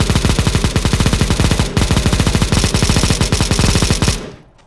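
Rapid automatic gunfire in Counter-Strike: Global Offensive, a loud, close burst of evenly spaced shots rattling for about four seconds before cutting off and fading.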